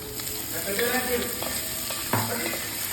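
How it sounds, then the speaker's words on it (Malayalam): Potatoes tumble into a pan of sizzling mustard seeds, curry leaves, green chilli, ginger, garlic and onion and are stirred, with steady close frying hiss and scraping strokes, one sharper clatter near the end, and no talk. "ഇതിലേക്ക് നമുക്ക് ഉരുളക്കിഴങ്ങും ചേർക്കാം"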